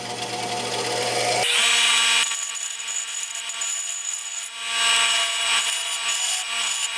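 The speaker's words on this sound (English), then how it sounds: "with my grinder here, I'm going to grind off these rough edges to make it smooth and even" A power grinder works the rough edges of metal on a workbench, a loud, steady whining grind that drops in pitch as it bites and then holds a continuous high, rasping tone, close and alone.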